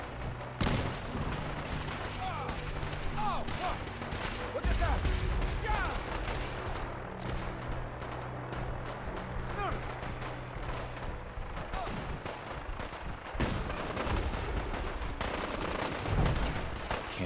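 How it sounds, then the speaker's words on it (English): Dense, continuous gunfire rattles through a battle in the video game Fallout 4, mixing rapid automatic bursts with heavier booms. The shooting stays steady and fairly loud for the whole stretch, and a voice speaks faintly under it. "We go in shooting."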